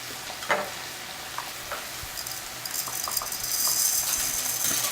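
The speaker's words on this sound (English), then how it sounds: "I'm gonna add my garlic and my rice" Garlic and brown rice fry in a pan during a cooking demo, a soft background sizzle with scattered clinks and rattles of a utensil stirring, the frying growing slightly louder toward the end, quiet and close with no talk.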